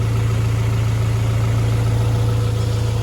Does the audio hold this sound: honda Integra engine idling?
yes